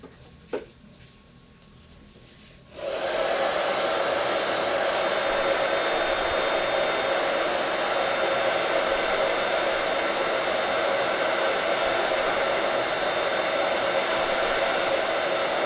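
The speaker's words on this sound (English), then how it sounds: "we're going to dry that with our hair dryer on the hot setting" After a brief quiet moment with a small click, a hair dryer on its hot setting switches on and blows a loud, steady, broadband roar with a faint whine that runs unbroken to the end, drying a silkscreen chalk transfer.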